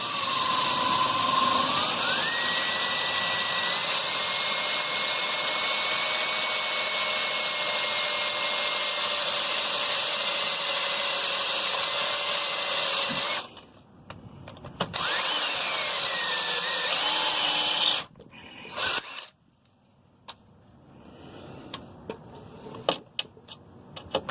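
A power drill bores a hole while a front side step is being fitted to a vehicle, a loud steady whine holding for over ten seconds before cutting out, then short bursts stop and start with brief gaps.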